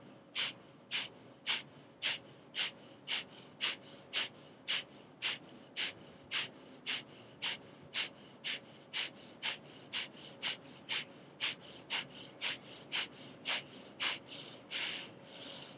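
During a vinyasa yoga session, someone breathes in steady, rapid, forceful bursts, about two per second, close and clear for the whole stretch, with no talking.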